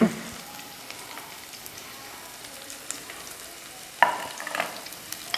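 Curry leaves sauté in a pan for a fish curry, a soft steady sizzle with light stirring and an occasional louder scrape or clink near the end.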